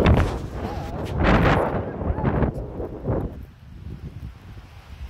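Strong gusting wind of up to 35 mph outdoors in a garden, buffeting the microphone in loud rumbling bursts that swell and ease, tapering off toward the end.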